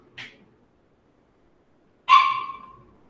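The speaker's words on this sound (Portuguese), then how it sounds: "o cachorro está querendo comer pela segunda vez" A hungry pet dog gives a short yip, then after a pause a louder, close whining bark that trails off slowly, heard alone in an otherwise silent room.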